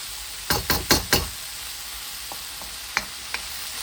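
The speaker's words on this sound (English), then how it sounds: "I'm just going to let that fry for a few minutes." Tofu noodles frying over a high flame in a hot wok, a soft steady sizzle broken by a quick run of four sharp scrapes or clacks, then a few lighter taps, with no talk.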